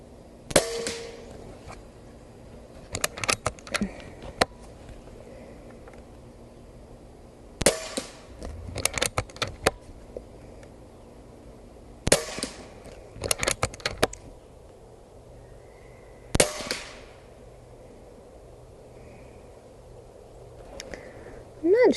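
Umarex Origin .25 caliber air rifle firing 33.5 grain NSA slugs, giving sharp, loud cracks in several separate bursts with quiet stretches between, each shot followed by brief metallic rattles and clicks of handling.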